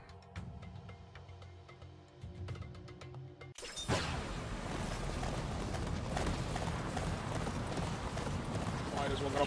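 A horse's hooves clip-clop in a video game, a steady near rhythm of knocks, then a sudden crash gives way to dense noisy game action for the rest.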